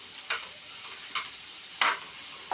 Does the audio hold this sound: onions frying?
yes